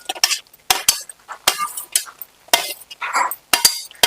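Cut okra tipped into a pan of cooked tomato, with sharp metallic clinks and scrapes of a utensil against the pan in irregular bursts, close and fairly loud.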